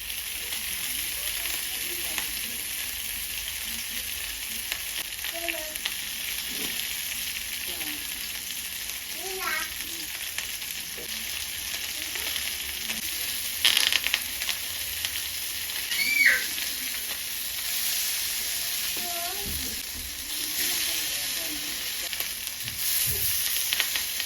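Mackerel frying in coconut oil in a pan gives a steady, close sizzle and crackle with occasional stirring scrapes, continuing throughout with a few brief louder spatters.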